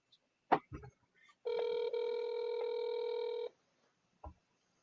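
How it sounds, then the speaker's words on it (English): A telephone ring tone sounds once for about two seconds, steady and electronic, framed by a few soft clicks and quiet room noise. "so it's ringing."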